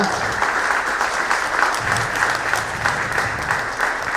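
A crowd at a Bengaluru devotional Murugan event applauds the organisers with loud, vigorous, densely overlapping clapping that holds steady from start to finish.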